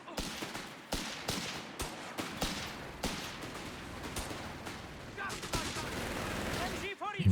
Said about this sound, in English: MG blasting away from long range.